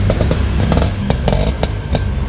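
Yamaha Force 1 motorcycle with its standard stock exhaust, idling close up with a loud, rough, steady engine rumble and a few quick throttle blips, no talking.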